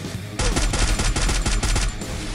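Gunfire in the video game Free Fire, a rapid automatic burst of closely spaced shots over about one and a half seconds, loud and punchy, with no talking.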